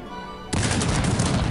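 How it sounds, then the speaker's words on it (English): A sudden, loud volley of massed musket fire from 18th-century line infantry in the Cossacks 3 strategy game, one dense roaring burst that holds after a quiet lead-in. "You see, we can fire at them before they can reach us."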